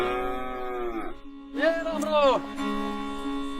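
An old, weak cow moos in two long, drawn-out calls, close and loud, with a short quiet gap between them and steady background noise throughout.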